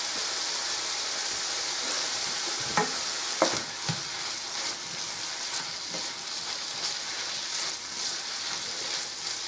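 A pot of beef and bacon stew heating toward a boil, sizzling and bubbling steadily up close, with a few sharp clinks of stirring in the middle.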